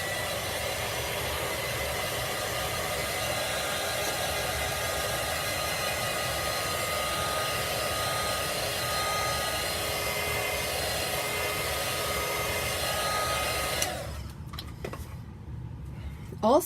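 A hair dryer blows a steady, loud whir while drying a grocery transfer on a chalk sign, running continuously before cutting off near the end, leaving brief quiet handling noises.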